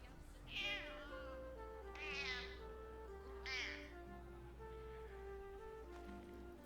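A cat in Baldur's Gate 3 gives three clear, fairly close meows at regular intervals, each rising and falling in pitch, over a soft sustained musical background.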